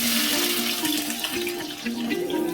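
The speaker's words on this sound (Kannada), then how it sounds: "ಇವಾಗ ಈರುಳ್ಳಿನ ಹಾಕ್ತಿದ್ದೀನಿ" Onions hitting a hot pan for aloo kurma, giving a loud, steady sizzle and hiss that continues for a few seconds with no one speaking.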